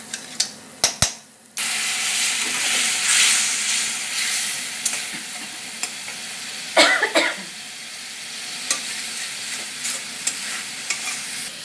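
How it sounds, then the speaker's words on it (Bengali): Onion, ground spices and ginger-garlic paste sauté in a pan for prawn malaikari, a steady broadband sizzle with repeated scraping stir strokes and a few sharp clinks, no talking. "সমস্ত গুঁড়ো মশলাগুলোর সঙ্গে পেঁয়াজটাকে ভালো করে আমি কষিয়ে নিচ্ছি।"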